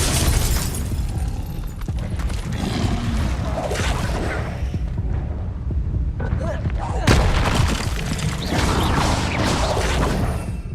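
Incendio fire spell blasts in Hogwarts Legacy, loud rumbling whooshes and booming impacts that rise sharply after a brief lull, with spell combat noise throughout.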